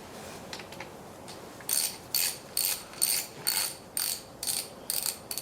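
Ratchet wrench turning 1/2 inch cover bolts on a 1967 Chevrolet Camaro 8.2-inch 10-bolt rear axle, a few faint clicks followed by eight loud, evenly spaced ratcheting strokes, close up.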